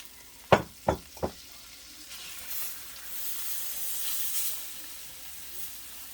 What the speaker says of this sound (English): And then you want to brown your flour.